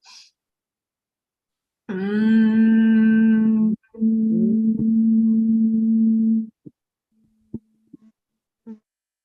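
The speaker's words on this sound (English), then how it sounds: "Here we just go humming, and you hear the vibration in your entire body." A group humming together during a laughter yoga session, one steady sustained tone lasting about two seconds, a brief break, then another long hum of several seconds, close and clear, with faint clicks afterward.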